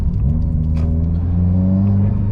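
Modified Subaru WRX exhaust pulling hard on an open highway, a loud, steady engine drone and rumble that holds throughout without talk.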